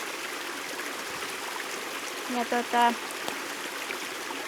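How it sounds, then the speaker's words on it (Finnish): A small stream babbles steadily beside forest land, flowing down from a large bog pond up on the rocky hills; the water hisses and trickles continuously while a voice briefly says one short word. "tuossa vieressä solisee pieni puro."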